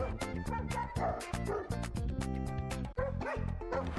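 A female Staffordshire terrier of about four years at a dog shelter barks and yips in quick, repeated bursts, close and loud, with some whimpering between barks.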